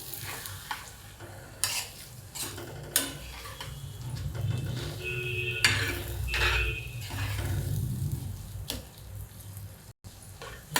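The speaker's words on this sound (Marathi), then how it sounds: "आता ही अंडी घेतलेली हलवते, आता सगळी ओतली" Beaten eggs for egg bhurji being stirred in an iron pan, with scraping spatula strokes, clinks and soft sizzling in an irregular rhythm, close and fairly quiet.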